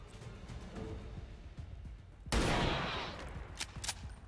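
A single heavy volley of gunfire from the video game XCOM 2 erupts midway and rolls off over about a second, over low background game ambience, followed by a few faint clicks.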